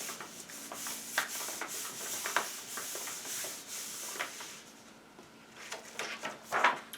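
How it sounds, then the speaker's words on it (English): A palm rubs paper laid over a cardboard collagraph printing plate, producing soft, steady scuffing and sanding-like strokes, close and quiet, with brief pauses and no talk. "One last rub it with my palm."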